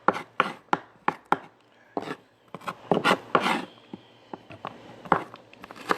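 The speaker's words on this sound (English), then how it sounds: "I'm going to chop this, a Spanish purple red onion" A knife chops a Spanish purple red onion on a board, with sharp close irregular strikes in quick bursts and short pauses between, alone with no talking.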